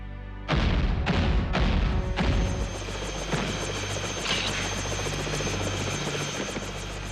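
Cartoon rescue helicopter rotors start up with a few heavy thumping beats, then settle into a loud, fast, continuous chop and engine whine close by, with no talking over it.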